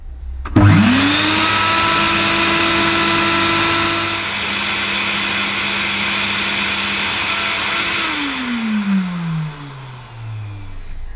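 A Vax Rapide 5140 3-in-1 carpet cleaner starts with a sudden loud whine, runs as a steady roaring motor and pump for several seconds, then dips in pitch and winds down as it is switched off.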